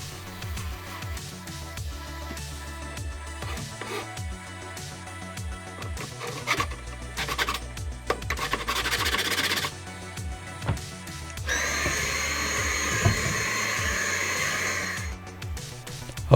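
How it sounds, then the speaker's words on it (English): Dremel rotary tool and hand files trimming a wooden under-stairs shoe shelf, with a steady high whine and bursts of scraping and grinding that swell louder near the end. "I use my Dremel and files to make the adjustments."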